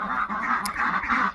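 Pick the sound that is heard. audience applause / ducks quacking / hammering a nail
ducks quacking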